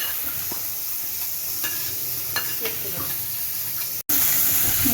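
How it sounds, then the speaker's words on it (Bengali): Chopped onion sizzles in a pan while a capsicum stuffing is cooked, a steady close frying hiss with a few scraping stir sounds, then a brief break before the sizzle returns louder. "এবার ভাজি আমি, তারপরে আসছি পেঁয়াজটা দিয়ে"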